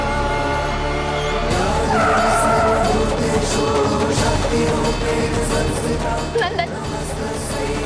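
A car skids after its brakes fail, a loud, continuous tire squeal and engine rush that sustains throughout, swelling in intensity, with dramatic music and layered sound effects mixed in.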